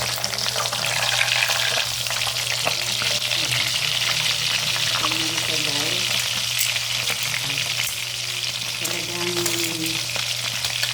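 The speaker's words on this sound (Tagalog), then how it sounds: "Ito ay sa crispy fry" Pork chops deep frying in hot oil, a dense continuous sizzle and crackle that stays loud and even throughout, close up with a low steady hum underneath and no talking.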